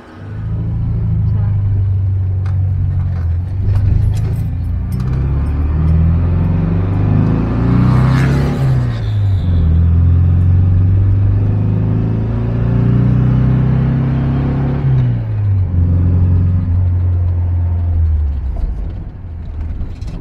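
A 1979 Volkswagen Fusca 1300L is lowered on a workshop lift, a steady low motor hum and rumble that shifts pitch partway through and runs throughout, with people talking in the shop.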